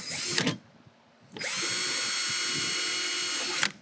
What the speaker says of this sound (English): Okay, 2 more holes to drill.